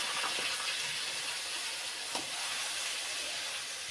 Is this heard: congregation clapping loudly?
no